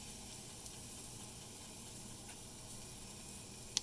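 Pancake batter sizzling in a hot pan, a soft, even hiss that runs steadily throughout, fairly quiet and close, ending with a brief sharp tick.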